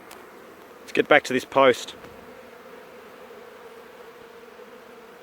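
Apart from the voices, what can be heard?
honeybee swarm buzzing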